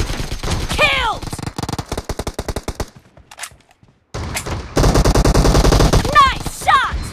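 Rapid automatic gunfire from PUBG Mobile, loud bursts of evenly spaced shots, a short pause, then another sustained volley with sharp ricochet-like whines near the end.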